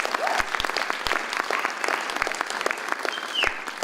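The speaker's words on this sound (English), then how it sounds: "let's give her a little applause for this" Audience applause for a performer at a civic poetry event, a steady wash of many hands clapping close by with sharp individual claps standing out, and a brief voice or whistle near the end.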